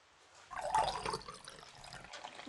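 Fish sauce poured into a pot of soup broth, a brief splashing liquid pour that starts abruptly, peaks, then trails off into light trickling, close and moderately loud with no voices.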